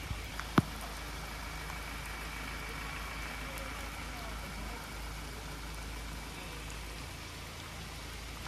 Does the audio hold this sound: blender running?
no